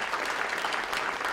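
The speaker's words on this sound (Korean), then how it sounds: "박수를 한번 격려합시다." Applause from the audience at a church New Year greeting gathering in Korea, a steady dense clatter of many hands clapping throughout the short burst, fairly loud with no voices over it.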